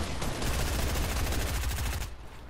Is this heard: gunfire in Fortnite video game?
yes